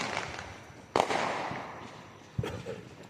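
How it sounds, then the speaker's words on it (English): Fireworks go off outside at night: two distinct booms, each trailed by a crackling, fading tail, with a low background hiss between the bursts. "you know how Tofu is with the noise of the fireworks"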